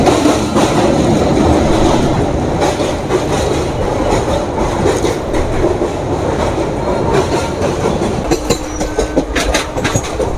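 The Kolkata–Digha special passenger train runs loud and close on its rails past Bally Ghat, with a continuous roar, rhythmic clickety-clack from the wheels and brief metallic squeals near the end.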